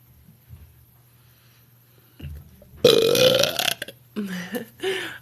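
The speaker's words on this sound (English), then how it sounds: "burping." A woman lets out a long, loud, deep burp up close, followed by a shorter second belch, with quiet breathing and small noises before them.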